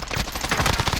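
Dense gunfire in a video game shooter, loud overlapping shots and bursts packed tightly together with no clear gaps across the short stretch.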